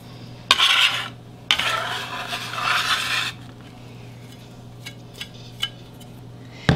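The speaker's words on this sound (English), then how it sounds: "So we're gonna get our onions and our dill into the bowl." Onions and dill being added to a bowl for chicken salad, two bursts of rasping, scraping handling close by, then quiet with a few light taps and clinks.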